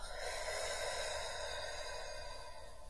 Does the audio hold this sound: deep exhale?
yes